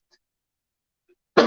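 One short, close cough breaks out abruptly at the end after near silence.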